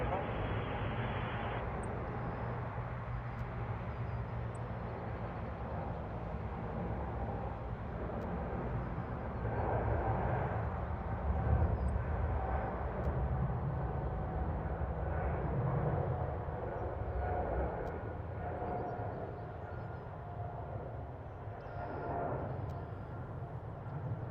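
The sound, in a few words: Air Canada airliner lining up on runway 05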